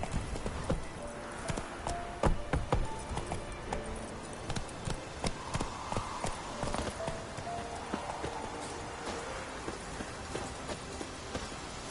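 Geralt's horse Roach trotting in The Witcher 3, a steady clip-clop of hooves across the whole stretch at moderate volume, with a brief soft whinny and ambient game sound underneath.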